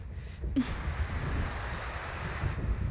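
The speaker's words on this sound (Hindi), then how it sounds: "एक तो बारिश भी नहीं रुक रही, ऊपर से बिजली भी चली गई।" Steady rain hisses throughout, with a low rumbling undertone like distant thunder; no voices are heard.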